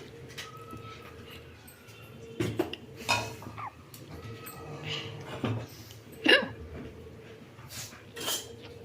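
In a home kitchen, a frying pan is set down on the stove before tempering, giving a few scattered metallic clanks and knocks, some sharper than others, over a quiet room with faint voices.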